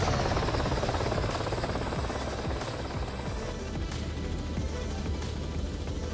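A Robinson R66 turbine helicopter in the X-Plane 11 flight simulator flies toward a hospital helipad, its loud, steady rotor chop and turbine whine filling the scene throughout.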